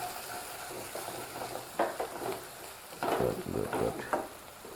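A spoon stirring turmeric powder through potato curry in a pan, with soft scraping strokes in a few bursts over a steady low sizzle, close by and with no talking.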